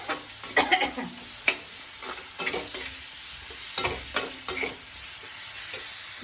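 Ginger and garlic sizzle in hot oil in a pan for an Assamese banana-flower dish, with a steady frying hiss under irregular clatters and scrapes from a stirring utensil, close and fairly loud, without speech.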